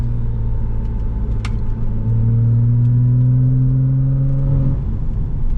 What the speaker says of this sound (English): Plenty of engine braking.